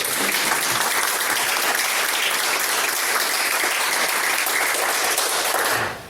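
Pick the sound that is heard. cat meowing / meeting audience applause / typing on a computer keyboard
meeting audience applause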